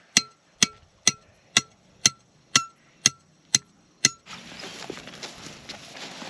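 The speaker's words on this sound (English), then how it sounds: "We'll pound that post in." A rebar fence post being pounded into the ground for field fencing: nine loud, evenly spaced metallic strikes about half a second apart, followed by a softer rustling, scraping stretch with no talk.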